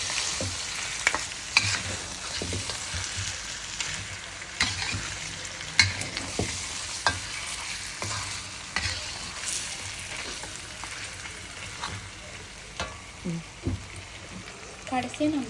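Mutton black pepper fry being stirred in a pan, with a steady sizzle of frying meat broken by repeated scraping and clacking strokes of a spoon against the pan, close up and without talk.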